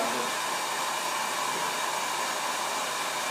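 A honey extractor spinning frames of honey, a steady loud whirring roar that holds unchanged throughout, close up and without speech.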